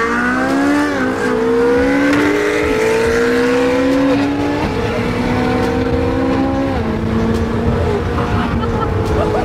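Loud Ferrari 488 and 458 sports car engines roar and rev together while racing, pitch climbing through gear shifts, close by in a continuous, dense engine drone.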